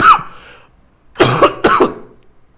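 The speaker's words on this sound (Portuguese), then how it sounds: "Estou tossindo aqui," A person coughs into a nearby microphone: one short cough, a pause, then two more harsh coughs in quick succession, close and loud with no speech.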